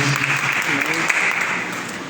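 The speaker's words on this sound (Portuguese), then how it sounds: "aplauda o Senhor Jesus porque Ele merece" Church congregation applauding during worship, a steady dense wash of clapping over two seconds, with voices speaking and calling out beneath it.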